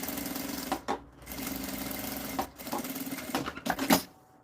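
Domestic sewing machine stitching the seam of a fabric pencil case with a zipper, a close, steady mechanical whir with rapid needle clatter, briefly pausing and restarting a few times.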